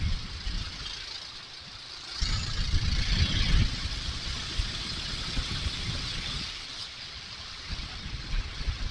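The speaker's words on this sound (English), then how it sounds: "That's a nice dump truck." A dump truck passing outdoors on an early spring day: a low engine rumble that swells in the middle and then fades, with no voices over it.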